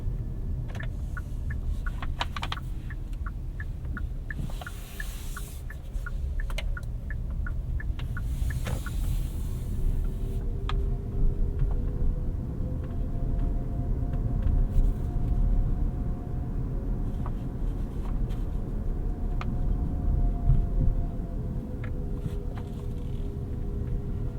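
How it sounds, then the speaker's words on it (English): A 2023 Kia Sportage Hybrid LX creeps slowly over a bumpy road in EV-only mode, a faint electric motor whine gliding up and down in pitch above the low road rumble and occasional suspension knocks inside the cabin. "You can hear the electric motor whining a little bit."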